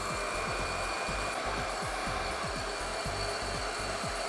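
A hair dryer blows on the front hair roots to lift volume, a steady airy whir with rhythmic rubbing or brushing strokes repeating about every half second, close and continuous, with no talking.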